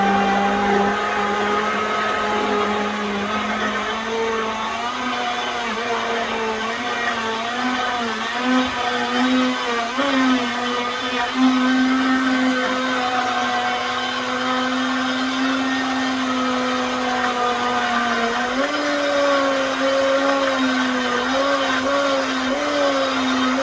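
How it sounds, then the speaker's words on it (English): A kitchen blender whirs steadily as it pre-blends smoothie ingredients, a loud continuous motor hum that shifts slightly in pitch as the load changes, with no talking. "so let's put it onto the blender"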